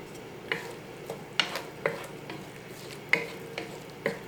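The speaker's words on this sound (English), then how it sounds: "we'll just let this simmer for a minute so the tofu can pick up the rest of those flavors" Kale and tofu simmer in a pan, a steady sizzle running underneath while a utensil scrapes and clicks against the pan in repeated stirring strokes.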